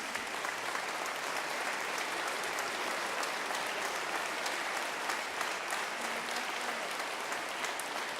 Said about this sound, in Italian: E doveroso è l'applauso ai solisti di questa sera